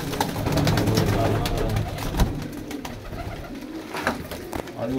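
Pigeons coo repeatedly nearby, soft throaty calls rising over a busy background of clatter and rustling.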